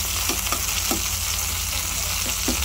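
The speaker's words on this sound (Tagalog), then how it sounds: "lutuin po natin ang ating kamatis. Ayun na, madudurog-durog na siya" Chopped tomatoes sizzling in a frying pan while being mashed, a constant close hiss of frying with a few soft scraping stirs spaced through it, no voices.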